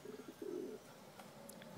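A blue bar pigeon hen kept as a pet gives soft, low coos in short bursts, close by and fairly quiet, with a few faint chirps from other birds around it.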